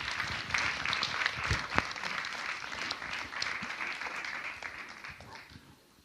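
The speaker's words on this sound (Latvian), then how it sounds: "Aplaus vēlreiz." Applause at an awards ceremony of the Latvian events forum excellence awards: a dense, steady crowd clapping that carries on for several seconds and then fades toward the end.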